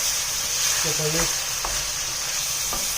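Cardamom pods are stirred in a frying pan of curry base with cinnamon stick and bay leaf, a steady close sizzle running throughout, with a few soft scraping touches of the spoon.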